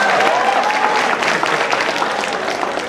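An audience at a 2012 Jakarta gubernatorial health-program debate applauds candidate Basuki (Ahok), dense, loud clapping sustained from start to finish, with a voice faintly over the opening.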